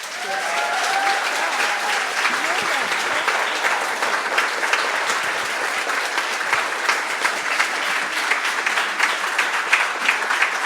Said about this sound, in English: give a warm Featherston thank you by means of applause to our wonderful guests today